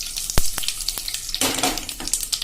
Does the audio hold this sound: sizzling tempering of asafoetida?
yes